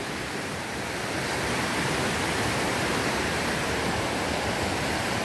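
Rushing water of a river swollen and muddy after a storm, a steady broadband roar that stays loud and unbroken from start to finish with no voices.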